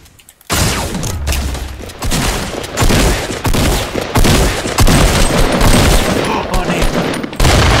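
Bursts of gunfire and explosive booms from a Fortnite Battle Royale duos match, loud and dense throughout with players talking over the shooting.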